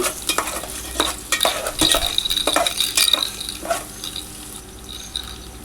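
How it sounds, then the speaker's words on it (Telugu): Chopped onions fry in hot oil in a pan for a home-cooked chicken biryani, with irregular scraping stirs of a spatula over a low crackling sizzle, close by and without talk. "మనం ముందుగా కోసి ఉంచుకున్న ఆనియన్స్ కూడా అందులో వేసి ఫ్రై చేయాలి ఫ్రెండ్స్ అవి బాగా ఫ్రై అవ్వాలి"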